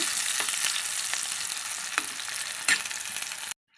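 Steady, loud sizzling of green chillies frying in hot oil, with a few sharp crackles and spatters, cutting off abruptly near the end.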